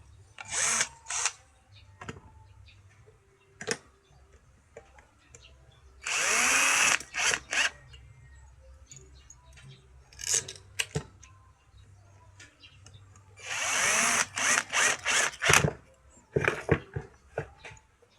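A power drill drives four screws back into an electric fan with a broken neck, in several loud whirring bursts separated by quiet pauses and faint ticking handling sounds.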